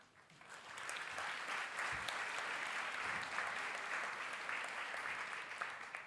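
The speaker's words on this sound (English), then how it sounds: "let us give a warm applause to the members of the panel" Audience applause for panel members at a conference session in a studio room, rising quickly into sustained even clapping from a mid-sized crowd, then easing slightly toward the end.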